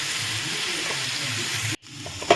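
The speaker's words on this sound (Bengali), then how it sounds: "সামান্য একটু নাড়িয়ে নিয়েছি এবার আমি এর মধ্যে মুসুর ডালটা দিলাম ভিজানো ডালটা দিয়ে দিলাম" Soaked red lentils (masoor dal) sizzle and hiss as they are stirred and fried in a pan, a steady close frying sound that cuts out abruptly, followed by a faint clatter.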